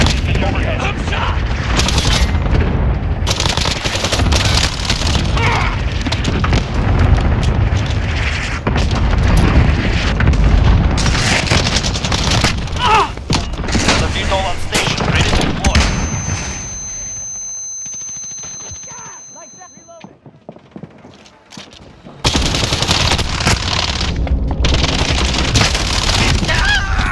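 Cluster strike explosions and gunfire in Call of Duty Modern Warfare: sustained loud booms and rattling fire with voices over the top. The noise drops to a quiet lull, then erupts again into heavy blasts.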